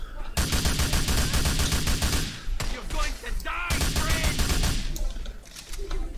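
Sustained automatic gunfire in the video game Grand Theft Auto IV, loud rapid bursts with brief pauses between them, with some voice sounds mixed in.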